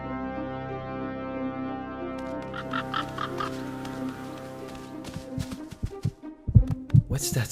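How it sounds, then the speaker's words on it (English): Heartbeat sound effect in an animated lion story, a slow low throbbing pulse under a sustained tonal drone, growing louder and more irregular toward the end. "It's like a second heartbeat."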